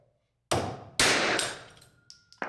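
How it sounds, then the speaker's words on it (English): Two loud, sharp hammer blows on the top of a wooden basement wall frame ring out close by, followed by lighter knocks and a faint metallic ping as the strikes die away. "take a hammer and just hit the top of this"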